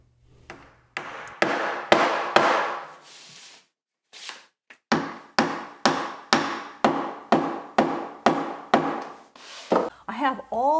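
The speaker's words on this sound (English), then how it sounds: "Next, pound the plugs in firmly with a mallet." Mallet pounding wooden plugs into drilled holes, a run of about fifteen sharp, loud wooden knocks at a steady, near rhythm with a brief pause partway through.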